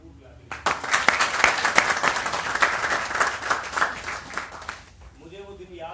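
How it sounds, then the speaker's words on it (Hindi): Sustained audience applause for a speaker at a marketing lecture, a dense burst of many hands clapping that rises suddenly, holds steady for several seconds and then fades as the room quiets. "इनके लिए एक बार भरपूर ताली।"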